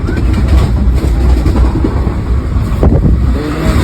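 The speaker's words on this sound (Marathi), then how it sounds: "आता आमच्या ट्रेननी स्पीड पकडलाय" Loud, steady rumble of a Konkan Railway train moving fast between Thane and Ratnagiri, a continuous low roar with faint rattling and no voices.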